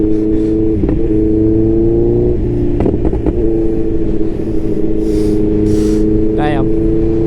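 A loud Yamaha R7 motorcycle engine revs hard up close, with several abrupt breaks in the note as the quick shifter changes gears, while a rider speaks over the roar.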